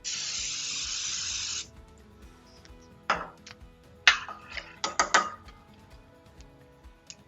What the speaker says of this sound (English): I'm going to spray that with Nonstick cooking spray.